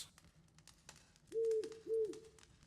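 Pet parrot Poppy in The Witcher 3 gives two short, clear tonal calls in quick succession, each with a slight rising-then-falling shape, heard alone over faint ambient game background.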